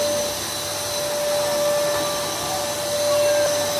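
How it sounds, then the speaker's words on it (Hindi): Vacuum cleaner running during house cleaning, a loud, steady motor whine with a sustained tone that holds unchanged from start to finish with no talking. "वैक्यूम की वजह से आवाज बिल्कुल नहीं आ रही है।"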